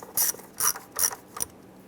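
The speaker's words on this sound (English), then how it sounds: "Using our 8mm socket, we're going to go ahead and loosen the hose clamp here." An 8mm socket on a ratchet loosens a hose clamp in the engine bay of a 2002-2008 Dodge RAM, giving four quick, close ratcheting bursts in a steady rhythm with no talking.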